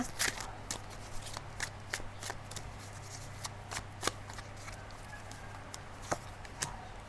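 Tarot cards shuffled close by, a run of crisp riffling flicks and slaps at irregular intervals over a low steady hum, with no one speaking.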